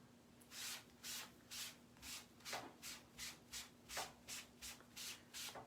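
A hand rubs rhythmically over a decoupage transfer on a wooden house cut-out, about a dozen quick, evenly spaced scrubbing strokes, close and fairly quiet, with no talk.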